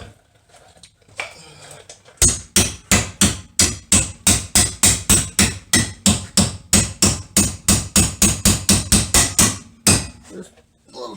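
Hammer tapping a long bolt into place while a sway bar is fitted during lowering of a C4 Corvette: a steady run of about thirty sharp, close metallic strikes.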